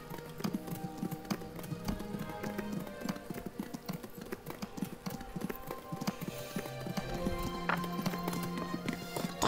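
Horse hooves clip-clop steadily in the game Kingdom Come: Deliverance under a busy game soundtrack, with faint rhythmic tapping running through the music.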